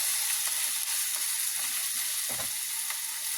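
Lobster mushrooms and shrimp stir-frying in a hot pan, giving a steady bright sizzle with a few soft scrapes of stirring, close and continuous without voices.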